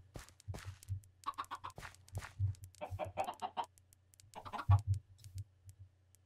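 Minecraft chickens cluck in short bursts over a steady low game hum, several fowl calls overlapping at moderate distance with no talk.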